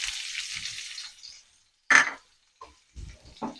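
Onions dropped into about four tablespoons of hot oil in a pan for a prawn fry sizzle loudly for about a second, then quieter scrapes and stirring sounds follow in short bursts.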